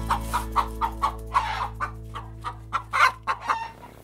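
Homemade clucking cups, toy noisemakers that mimic chicken clucks, give a run of about a dozen short, close clucks in an uneven rhythm, several at once near the end, with no talking.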